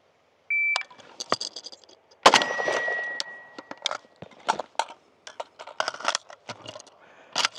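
A shot timer buzzer on a reload drill with a Zastava M90 rifle gives a short sharp beep, followed by bursts of metallic clicks and clatter and a second sustained tone.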